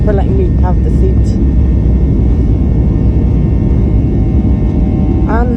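A Malaysia Airlines Boeing 737 takes off from Langkawi at night, heard from inside the cabin as a loud, dense, continuous engine roar throughout, with brief talking at the start and end.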